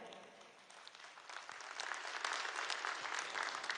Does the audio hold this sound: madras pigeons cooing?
no